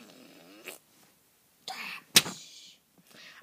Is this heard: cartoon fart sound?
yes